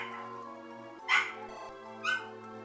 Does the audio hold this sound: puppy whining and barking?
yes